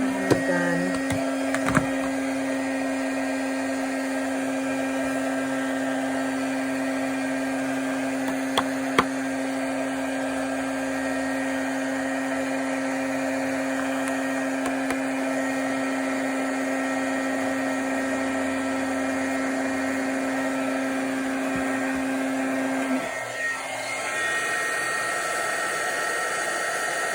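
A heat gun melts white embossing powder on a stamped thank-you card, giving a steady, loud, fan-driven whir with a high whine that runs unbroken for most of the stretch before cutting off near the end.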